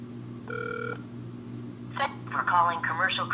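A phone call placed on speakerphone produces a single ringing tone, and then a voice begins talking over the line.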